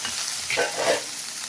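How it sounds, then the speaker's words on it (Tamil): Small onions sizzle and crackle in a hot pan, with a soft stirring scrape through the middle; steady frying hiss, close and moderately loud, no talking. "ஒரு சின்ன வெங்காயம் நல்லா நறுக்கி வச்சுருக்கேன் இப்போ இது வந்து நல்லா வதங்கட்டும்"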